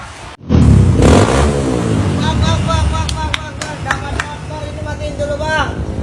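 A Yamaha R25 motorcycle engine revs hard right up close, surging loudly then settling into a rough, uneven idle with a few sharp blips of the throttle.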